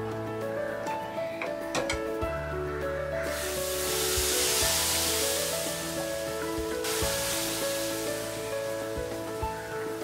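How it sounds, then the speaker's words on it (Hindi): Rava dosa batter poured onto a hot non-stick pan, a bright hissing sizzle that swells in the middle of the clip, fades briefly, then returns over a low steady background hum. "हमारा ये नॉन स्टिक पैन गर्म हो गया है। अब हम इसमें ये बैटर डालेंगे।"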